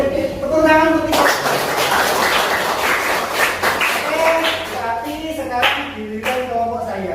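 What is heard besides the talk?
applause, class clapping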